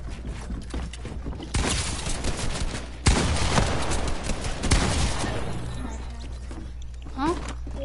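A golden pistol fired in a video game, dense bursts of sharp cracks in two rapid loud flurries, with talk mixed in.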